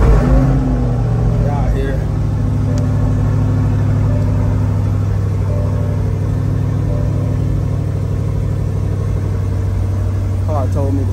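A shadow gray Chevrolet C8 Corvette with its top down fires up and settles into a deep, steady idle rumble that fills the whole stretch, with someone talking briefly over it.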